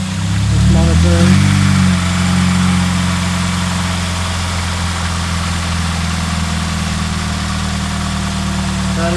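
A car engine idles steadily at about 700 RPM, fitted with lightweight aftermarket pulleys, giving a continuous low, even hum close by; a voice speaks briefly near the start.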